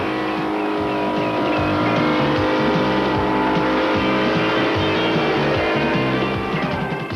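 Stock cars race around a half-mile oval, several engines snarling and overlapping as they lap at close range, pitch rising and falling with the passes, loud and continuous.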